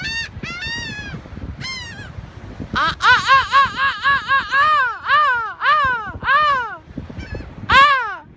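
Gulls and a crow call among a seagull swarm, a run of loud, close harsh cries and caws repeating in quick bursts, with a short gap between groups.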